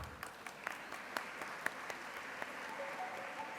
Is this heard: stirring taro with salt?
no